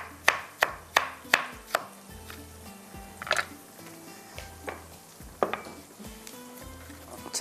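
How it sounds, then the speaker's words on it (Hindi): A knife chops tomatoes finely on a cutting board in a home kitchen, with a quick run of crisp knocks followed by scattered, slower chops and light clatter. "टमाटर को बिल्कुल बारीक चॉप करते हैं।"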